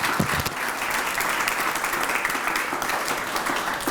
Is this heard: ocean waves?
no